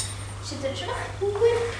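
Cutlery is set down on a table in a few light, scattered clinks and taps, faint beneath people talking.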